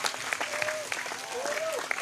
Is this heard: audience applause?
yes